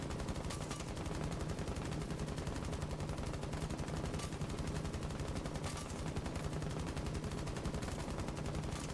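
Rapid, steady automatic gunfire in Rainbow Six Siege, an unbroken stream of shots at moderate volume lasting the full length, with a few heavier accents and no talking.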